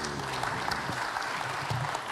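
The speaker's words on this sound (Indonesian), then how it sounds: "Boleh tepuk tangan lagi, jangan ragu-ragu." Audience applause at a live investment seminar, a steady, even roar of many hands clapping throughout, heard from within the hall with faint voices beneath.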